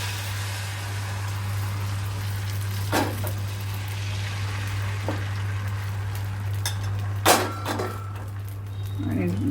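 Suranali dosa batter hits a hot ghee-coated tava on a high gas flame, giving a steady sizzling hiss with occasional clinks of a spoon, while someone talks over it.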